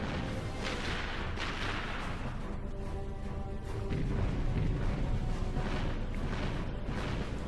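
Turret blasts and explosions in a Ratchet and Clank game, shots aimed at enemy ships and missiles, a dense continuous barrage of booms and gunfire running steadily throughout with no voices.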